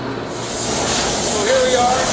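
A powder coating booth hisses steadily as a chassis for an audio console blade is sprayed, a broad continuous spray noise swelling after the first half second and holding loud and close.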